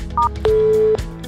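Telephone keypad tones: a short dual-tone beep, then a longer steady tone lasting about half a second, clear and close, with no talking.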